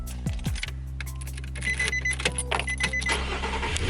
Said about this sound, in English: I started up the car, or the truck really.